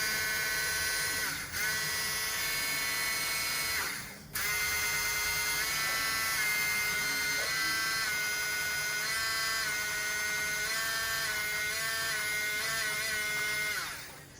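A Tefal Optichef hand blender runs on its turbo setting, giving a loud, steady high-pitched motor whine that briefly cuts out twice early on and then shifts pitch slightly as it keeps going.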